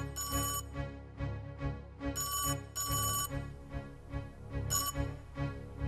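A telephone bell rings in short repeated bursts, with several separate rings at a close, clear level over a low, steady background hum, in a suspense thriller film.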